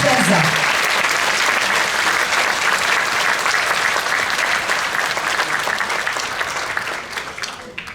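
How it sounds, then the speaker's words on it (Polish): Concert audience gives a chamber choir a long round of dense, steady applause at close range, tapering slightly toward the end, with a voice briefly audible near the start. "Brawa ogromna"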